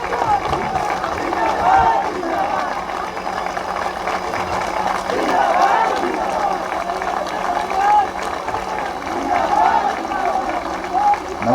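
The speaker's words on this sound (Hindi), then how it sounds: "खूब तालियां बजती रहे।" An audience at the Latiya Mahotsav festival keeps up sustained, dense clapping for over ten seconds, swelling in waves, with a voice speaking over it in the background.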